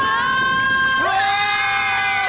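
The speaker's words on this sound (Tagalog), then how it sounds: "maririnig niyo ang hiyaw ng mga piratang nagturusa." A cartoon crowd of pirates shouts and yells together in a loud, close burst of overlapping voices, rising in a sudden collective cry about halfway through.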